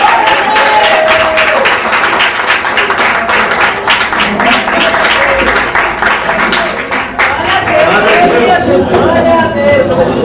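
Congregation clapping in rhythm during a children's congress at a church, a dense, busy patter of many hands mixed with voices and music throughout.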